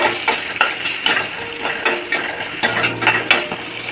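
Guava pieces sauté in a pan with fried urad dal, chillies and garlic, giving a bright sizzle broken by repeated scraping stirs of a spoon against the pan, close and fairly loud, with no talk.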